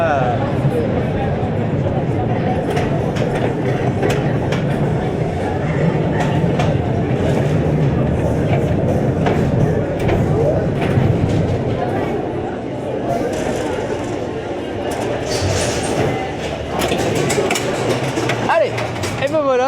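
Wodan wooden roller coaster train at Europa-Park rolling back into the station, a steady loud rumble and clatter of wheels on track that rises and fades slightly, with riders talking over it.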